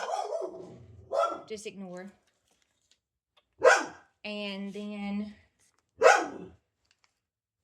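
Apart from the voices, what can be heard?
dog barking in the background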